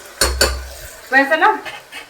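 Chopped bottle gourd and soaked chana dal go into a cooking pot over ready masala in a home kitchen: two sharp metal clanks of utensil on pot, then a short burst of scraping and stirring, close and moderately loud.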